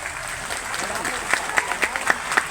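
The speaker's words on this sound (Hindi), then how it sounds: "जोरदार ताली बजा के इनका स्वागत करिए।" Crowd clapping with a steady wash of applause, a few sharper claps standing out near the end over a loud, dense background.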